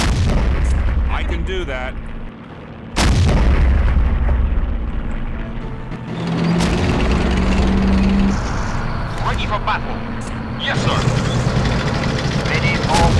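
Artillery fire in the Blitzkrieg strategy game: heavy booms and gunfire bursts recur across the scene, some loud and close, mixed with game unit voice responses and people talking over them.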